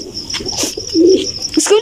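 Pet pigeons give soft, low coos close by, a few short throaty calls amid chirps and rustling, under intermittent talk by a keeper.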